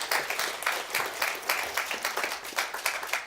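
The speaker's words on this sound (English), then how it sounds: "if we can just give them a round of applause" An audience at a company all-hands meeting gives a steady round of applause for the event team. The crisp, continuous clapping has slight rhythmic swells and runs throughout, with no talk over it.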